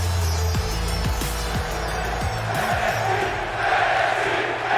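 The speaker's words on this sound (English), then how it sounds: "And the crowd chanting for NXT." A large wrestling arena crowd at an NXT show roars and chants in a steady, loud wall of voices, with rhythmic swells throughout.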